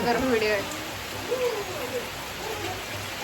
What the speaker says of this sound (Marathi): एवढा पाऊस आलाय भयंकर